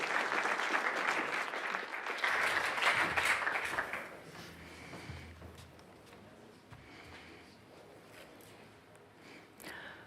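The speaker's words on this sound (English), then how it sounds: "Please give a round of applause for the next project, Elmo." Loud applause from a crowd fills the first few seconds, then fades into softer scattered clapping and murmuring for the rest.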